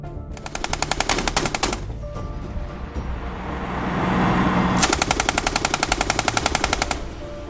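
An LAV 6.0 armored personnel carrier's 20 or 30 mm cannon fires two long rapid bursts, loud and close, separated by a rising engine rumble.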